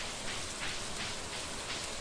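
Rainfall in the farming video game Stardew Valley, a soft, even hiss of steady rain that stays constant and faint throughout, with no voices or other events.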